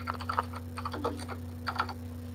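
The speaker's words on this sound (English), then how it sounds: "Sorry, I can hear my keyboard." Light, quick taps on a computer keyboard in short bursts, faint and close, over a low steady electrical hum.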